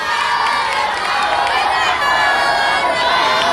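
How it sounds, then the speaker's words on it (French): A crowded audience at a community charity gathering claps and cheers loudly and continuously, a dense wash of noise with shouting and children's voices mixed in throughout. "on applaudit très fort pour elle"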